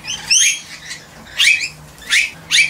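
Rainbow lorikeets and blue-faced honeyeaters call at feeding time outdoors, loud shrill screeches and sharp chirps in four or five quick bursts, close by, with no speech.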